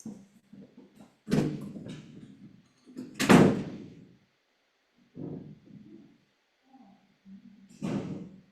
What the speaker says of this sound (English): My dog is still banging on the door.